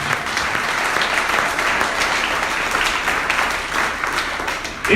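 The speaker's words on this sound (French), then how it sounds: "Acclamons le Seigneur pour la liberté qu'il nous a donnée." A church congregation applauds together at a baptism service, a steady, dense wash of clapping from many hands that holds evenly throughout without pause.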